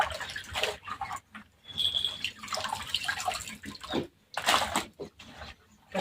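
Potato slices for wafers are swished and rinsed by hand in a second bowl of clean water, producing intermittent bursts of sloshing and splashing separated by short quiet gaps.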